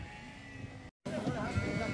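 Sheep bleat loudly and close by during a hill gather for shearing, with several overlapping calls that a brief silent gap interrupts partway through.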